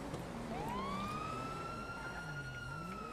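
A police siren in a video game wails in a rising sweep over steady engine rumble, growing as it approaches and holding continuously throughout.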